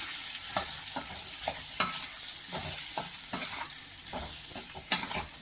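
Large gooseberries cook in a pan with chili powder and salt for pickle, a constant close sizzle broken by repeated stirring scrapes and a couple of sharper knocks of the spoon.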